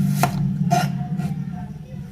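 A knife chops an onion on a cutting board in three separate, evenly spaced thuds over a steady low background hum, with no talking.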